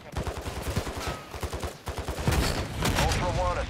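Rapid automatic gunfire crackles in Call of Duty DMZ, with dense overlapping shots and close bursts throughout, and radio-style voices over the shooting.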